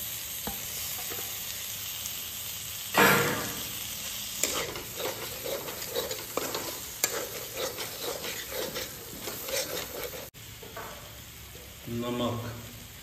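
Tomatoes fry in spiced oil and are stirred in a pan, a steady sizzle broken by scraping strokes and a louder burst as they hit the oil, with faint talk underneath.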